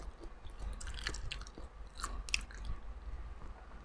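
Close, soft crunching bites and chewing of crispy fried food, crisp outside and soft inside, with irregular crackles repeating over a few seconds in a quiet setting.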